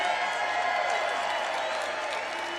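A large crowd at a political rally in Glendale, Arizona cheers and applauds in a steady, continuous wash of clapping and shouting voices, heard at a distance and sustained throughout.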